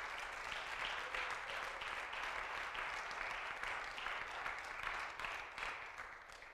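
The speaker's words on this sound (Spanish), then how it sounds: "Denle un fuerte aplauso al Señor," Church congregation clapping steadily for the whole stretch, a fairly faint, even patter of many hands in a large room with no voices on top.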